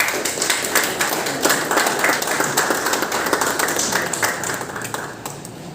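An audience claps and applauds at a silver medal award ceremony for Roches Rouges in Majunga, Madagascar, a dense loud run of applause that sustains throughout and eases slightly at the end.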